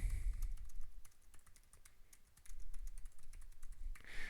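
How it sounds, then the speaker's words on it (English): Typing on a computer keyboard, a steady run of close, crisp key clicks over a low background rumble, growing denser and louder toward the end. "I can just start typing here."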